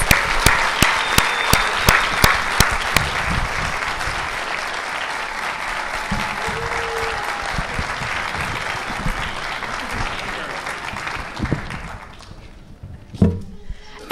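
A festival crowd applauds the junior royalty at a raspberry festival coronation, loud sustained clapping with a few sharp claps at the start, fading out near the end before a couple of bumps and thuds.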